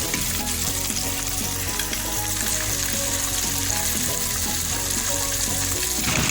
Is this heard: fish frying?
yes